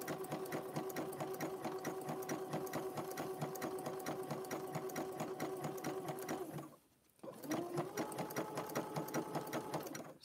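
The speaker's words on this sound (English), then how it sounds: "I hadn't got new feed dogs yet for my sewing machine." A sewing machine stitching rope for a rope bowl runs steadily with rapid rhythmic stitching, stopping briefly near the end before starting up again at full speed.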